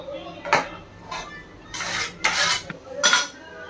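Drained cooked rice is spread across a pan with a metal spoon for chicken dum biryani, making several close scraping, rubbing strokes in uneven bursts with short pauses between them.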